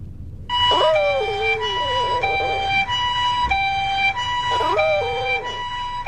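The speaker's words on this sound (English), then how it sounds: "Gotoro the Chihuahua howling her little brains out at an ambulance" Chihuahua howling along with a passing ambulance siren, the wailing siren steady and loud throughout while the small dog's rising, wavering howls come in two bursts over it.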